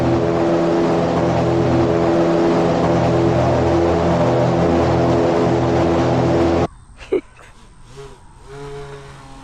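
A gator tour boat ride roars with a loud, steady engine drone and rushing noise for several seconds, then cuts abruptly to a much quieter scene with faint rumble.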